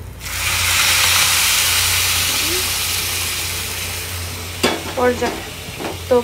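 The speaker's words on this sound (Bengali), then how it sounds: "এইখানে এখন দিয়ে দিব পানি।" Water poured onto sizzling fried rice for biryani bursts into a loud hiss that slowly fades, followed by a few scraping stirs and clatters near the end.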